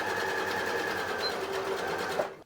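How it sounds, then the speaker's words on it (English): A sewing machine stitching a French seam down a length of fabric: a steady, fast mechanical whir with a constant hum, close and uninterrupted, stopping abruptly at the end. "just lower your needle into your fabric and sew all the way down"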